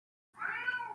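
A house cat gives a single drawn-out meow, close and fairly loud, starting after a short silence and holding steady to the end with no talking.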